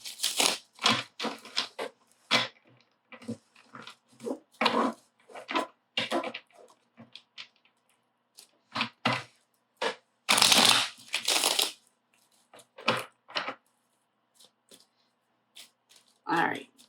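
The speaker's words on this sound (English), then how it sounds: "I'm gonna shuffle one more time" Tarot cards being shuffled by hand in bursts of crisp riffling and flicking, close and fairly loud, with short pauses between runs and a louder burst near the middle.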